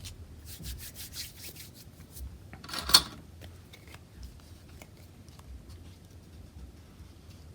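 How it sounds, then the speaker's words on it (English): Silicone Bondo spreader from Harbor Freight rubbing and pressing down a journal cover topper, giving soft, continuous close scraping with light taps and one sharper scrape midway, no talking. "it is a silicone spreader that I got from Harbor Freight, and it's used for doing Bondo"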